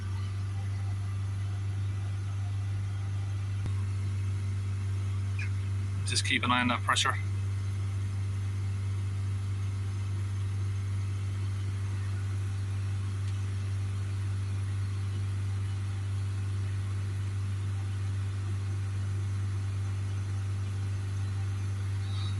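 A Mazda CX-3 1.5 Skyactiv engine with a flashing DPF light and fault code P243C idles with a steady, low, even hum throughout. Someone speaks briefly partway through.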